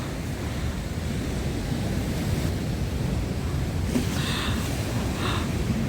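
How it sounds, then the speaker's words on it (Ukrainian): Stormy Black Sea at Odesa, waves surging and crashing continuously against the shore, with heavy wind buffeting the microphone and a couple of louder splashes near the end. "оце шторм"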